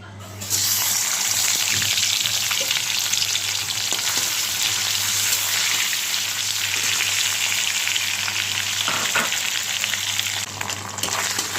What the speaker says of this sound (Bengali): শুকিটা এখন বসিয়ে দেবো একদম তেল তেলটা গরম হোক তেলটা গরম হয়ে গেছে